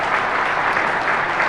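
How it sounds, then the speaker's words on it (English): Loud, dense applause fills a hacking conference hall as the audience claps for itself at the end of a panel, an even wash of many hands with no pause. "I'd like to get a round of applause for the audience"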